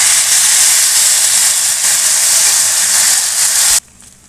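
Half a glass of water poured into a hot pan of oil-fried green mango for pachadi, setting off a loud, steady hiss and sizzle that cuts off abruptly near the end.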